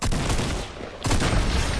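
Video game gunfire, a dense rapid fusillade of loud shots that breaks off for a moment and then resumes just as heavily, with no talk over it.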